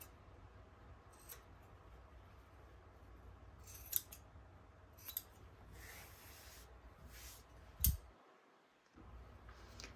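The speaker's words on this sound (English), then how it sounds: "I am just gonna trim it across, and then I'm gonna clip the corner" Scissors trim fabric and clip its corners, giving faint scattered snips and a few sharper clicks against a quiet background.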